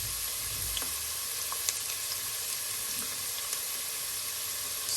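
Cabbage with carrot and garlic stir-fries in a hot pan, giving a steady, close sizzle with faint scattered clicks from stirring throughout.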